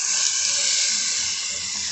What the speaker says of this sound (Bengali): এবারে আমি জল দেবো, অল্প একটু ঝোল তো লাগবেই